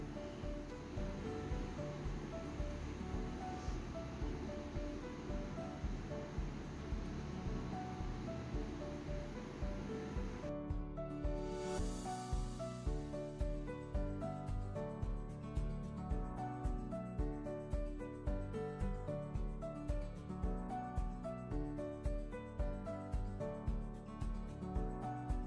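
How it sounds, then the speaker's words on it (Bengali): Large jalebi fry in hot oil, giving a continuous dense sizzle and bubbling hiss with a slight rhythmic pulse, close and steady, shifting in tone partway through as the dough is turned. "আমি এক পাশে উল্টিয়ে দিয়েছি আর এক পাশে ভেজে নিচ্ছি।"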